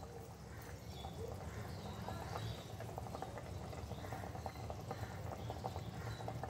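A pot of prawn curry with taro simmers faintly, giving a soft steady bubbling and gurgle of liquid that stays low and unbroken throughout.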